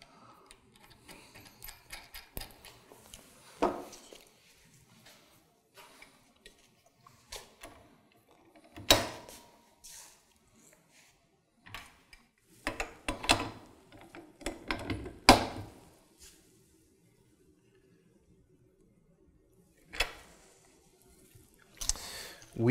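A wrench ratchets while tightening a bolt in a torque-versus-tension fastener test. Scattered bursts of close clicking and ticking are separated by quiet gaps, with sharper clusters in the middle and near the end.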